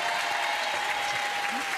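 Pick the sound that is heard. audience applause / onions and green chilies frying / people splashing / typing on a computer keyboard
audience applause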